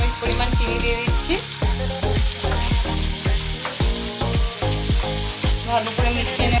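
Spice paste masala with a spoonful of sugar frying in oil that has separated at the edges for a sweet-sour prawn curry, loud close sizzling with a rhythmic series of spatula scrapes and stirs, no talking.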